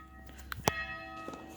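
A church bell strikes once loudly inside a church, a single clear ring that sustains and fades, with faint footsteps around it.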